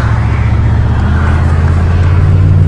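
A Subaru car pulls away from a farm, a steady, loud engine rumble that holds close and even throughout, with no talking.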